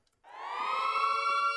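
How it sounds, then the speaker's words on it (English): A synthesized siren sample from a BeepBox music track swells in after a brief silence and holds as a steady, bright, rising wail, heard alone and loud. "The Siren was used, like, in the middle there."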